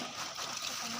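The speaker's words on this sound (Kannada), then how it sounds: "ಹಂಗೆ ತೊಳೆದು ಇದು ಮಾಡಿ ನೀರು ತುಂಬ್ಕೊ." Water running and splashing into a vessel as it is filled after washing, a continuous soft trickling gush, fairly faint and close.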